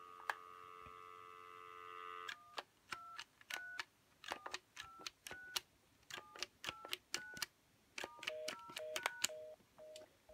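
A 1974 Western Electric Trimline desk telephone keyed in a rapid series of DTMF touch tones, short dual-pitch beeps in an irregular rhythm after a steady dial tone, close and clean with no voices.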